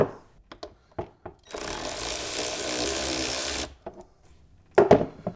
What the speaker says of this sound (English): I've got two hose clamps I need to loosen